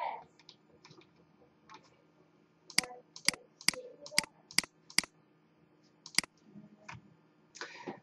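Computer mouse clicked in quick pairs and singles, sharp distinct clicks near the mic in an irregular rhythm, with a quiet room hum between them.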